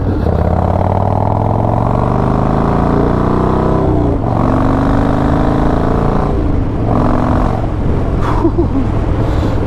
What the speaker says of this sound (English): this Mikuni carburetor has one of the fastest throttle response on a motorcycle I've ever felt